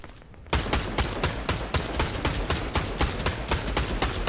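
Rapid automatic gunfire in Fortnite as players keep shooting a chain, starting abruptly after a brief quiet moment and continuing as a loud, steady stream of evenly spaced shots with no talking.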